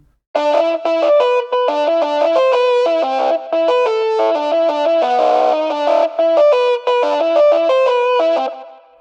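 A distorted, effects-heavy guitar plays a quick phrase of notes that bleed into one another, several sustaining together instead of stopping cleanly.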